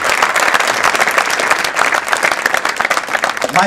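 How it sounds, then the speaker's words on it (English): A live audience claps hard during a talk, a dense, loud and steady burst of applause lasting a few seconds with no speech over it. "Come on, you want to clap? Clap really hard."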